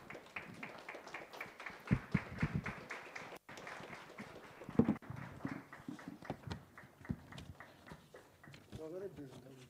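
An audience at a government keynote event applauds in welcome of a minister, scattered hand claps in a steady patter throughout, with talk over the applause.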